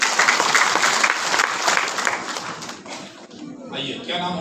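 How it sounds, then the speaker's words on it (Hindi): Audience applause at an Ayurveda training session: a burst of brisk clapping from a crowd that fades after a few seconds as voices carry on. "एक बार ताली बजाइए उनके लिए।"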